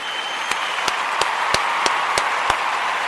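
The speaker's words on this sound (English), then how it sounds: "I want to give all of the Imani babies a round of applause" A crowd applauds for a group of young children, a loud, dense stream of clapping with one sharp, evenly spaced clap ringing out close by about three times a second.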